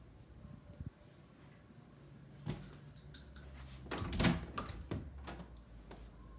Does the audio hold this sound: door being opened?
yes